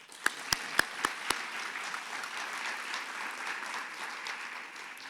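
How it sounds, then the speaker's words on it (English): Audience at a chamber of commerce teachers-of-the-year award event applauds, starting with a few sharp, close claps before settling into steady, moderately quiet clapping from the room. "An applause for her, please"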